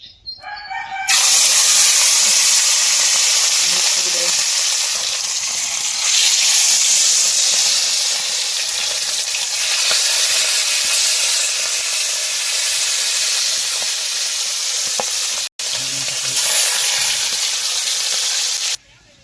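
Cooking oil sizzles and hisses steadily in a hot pan, a loud, bright, continuous frying noise that holds for nearly the whole stretch, with one abrupt momentary dropout near the end.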